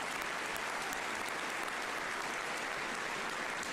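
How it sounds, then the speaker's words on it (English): Sustained applause from a university commencement audience, a dense, steady wash of clapping filling the hall for several seconds without a break. "that deserves a round of applause."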